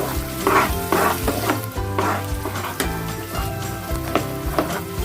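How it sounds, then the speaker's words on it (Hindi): Ginger-garlic spice paste fries in oil in a kadai, with steady close sizzling and occasional stirring scrapes running continuously without any voices. "तो चलिए अच्छे से भून लेते हैं।"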